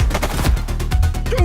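Loud, close gunfire in the police game The Precinct, a rapid string of sharp shots in quick succession with a brief shout-like voice near the end.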